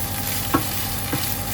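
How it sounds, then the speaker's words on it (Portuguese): Chicken and mushrooms fry in a pan with a steady, close sizzle. Two brief stirring scrapes break through the hiss and no one speaks. "vou misturar com o frango que já tá fritando"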